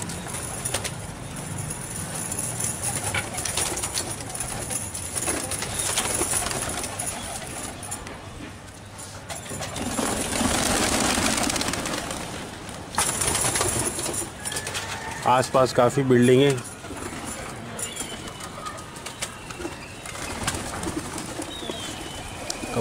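Pigeons being released from a low-roofed rooftop coo and flutter close by amid outdoor background noise, with a person talking over them and a brief burst of wing flapping.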